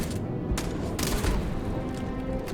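Sci-fi gunfire from the space game Starfield, a dense continuous volley of shots with a few sharper blasts standing out, loud and close in a busy combat mix.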